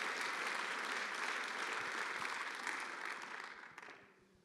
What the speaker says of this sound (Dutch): Jij krijgt nogmaals een hartelijk applaus.